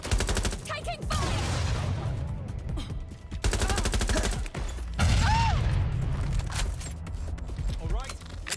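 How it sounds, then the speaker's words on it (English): Watch Dogs Legion combat, with loud, dense bursts of rapid automatic gunfire in repeated volleys separated by brief gaps, mixed with other in-game noise under a voice talking. "Taking fire."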